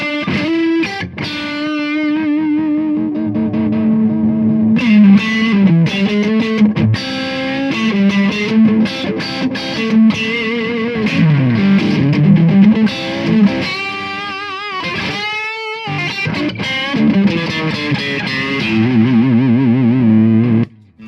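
Distorted electric guitar lead played through a Carl Martin Plexitone overdrive with its boost engaged, sustained singing notes and bends with bright harmonics, loud and continuous with a brief drop-out near the end.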